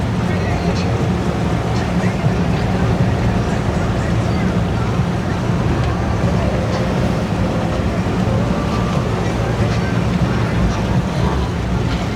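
A sport fishing boat motors around a corner near Crab Island, its engine a steady loud drone over continuous water and background noise, with no clear talk.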